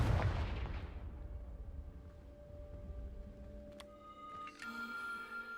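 A Confringo fire spell blasts in Hogwarts Legacy with a sharp, booming burst that rumbles and decays over about a second. Fainter magical pings and tonal chimes follow later.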